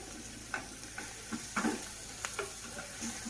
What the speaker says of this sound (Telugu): చూసారా మెంతికూర అనేది చక్కగా వేగిపోయింది